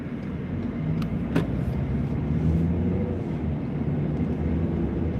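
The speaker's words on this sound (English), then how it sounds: "I just put on my AC in the car. It puts noise, but then I can't survive." Inside a car driving in Virginia on a hot July day, with the air conditioning on, a steady low roar of fan and road noise runs throughout, broken by a couple of brief sharp clicks.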